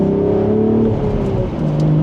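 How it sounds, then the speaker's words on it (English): Exhaust of a 2026 BMW Z4 M40i Final Edition with manual gearbox, in Sport Plus mode, pulling from second gear: a loud, steady accelerating engine note close up, with no voices. "So let's put it into sport mode now, where the exhaust gets louder"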